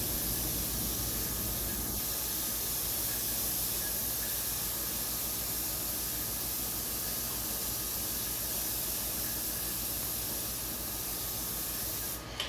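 An airbrush blows a steady, continuous hiss of air to dry paint on ghost flames, loud and close, running unbroken for several seconds before cutting off at the end.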